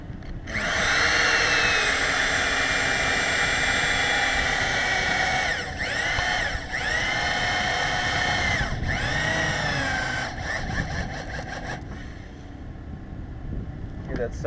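A power drill drives a lag screw into a wooden wall, a loud high-pitched whining motor running under load in long bursts, with brief dips and speed changes, then slowing and stuttering as the screw seats.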